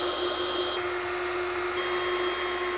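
A power screwdriver whirs steadily and loudly without a break, backing out the four chassis screws from a guitar amp cabinet with its back panel already off.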